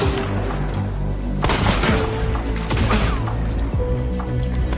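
Shotgun blasts in Hunt: Showdown: a few heavy, booming shots with mechanical clatter between them, loud against a constant layer of game ambience and music.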